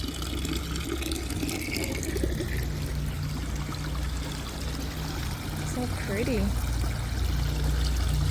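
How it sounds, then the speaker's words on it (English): Garden water features at a hardware store garden center trickle and pour continuously in the background, soft and steady, while someone talks briefly over them. "A lot of water features."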